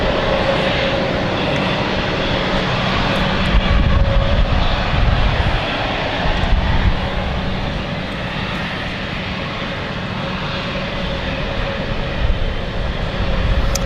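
KLM airliner engines at London City Airport, a steady loud broadband roar holding throughout with a constant whine, rising slightly in the middle as the aircraft moves out.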